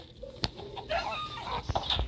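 A chicken in the Minecraft video game clucks in short bursts mixed with sharp clicky pops, close and clear, with no talking.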